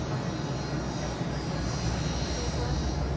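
An airplane in flight from Hong Kong to Moscow, carrying Edward Snowden, gives a steady, loud, dense engine and cabin roar that holds unbroken throughout.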